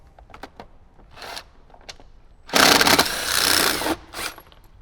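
An impact gun takes out a 10mm bolt while the head unit of a Jeep Wrangler JL is being swapped. After some light clicks and handling, there is one loud burst of rattling, buzzing hammering for about a second and a half, then a shorter burst.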